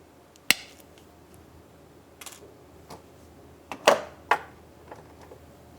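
Wire cutters trim jewelry wire while wrapping a small cabochon pendant: a few sharp metallic snips and clicks, close and isolated, separated by quiet pauses.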